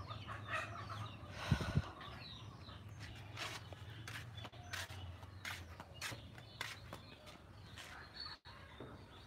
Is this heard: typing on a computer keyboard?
no